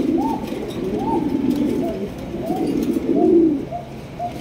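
Big white Lahori pigeons cooing close by, a series of soft, rolling low coos repeating roughly every second over faint background noise.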